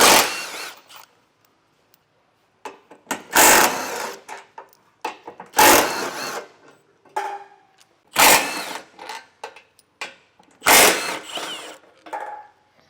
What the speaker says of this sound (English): we're going to have 2 15mm nuts and 2 15mm bolts. We'll remove those.